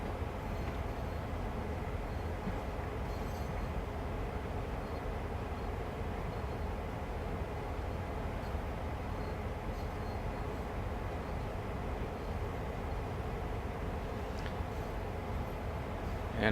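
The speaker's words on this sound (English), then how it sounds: "Just watching my speed here, so I can stop the train reasonably quickly." A train runs along the track as a steady, low, broadband rumble that holds even and unbroken throughout.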